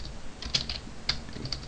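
Computer keyboard typing, a handful of quick light key clicks in two short bursts, close and fairly quiet, with no voices.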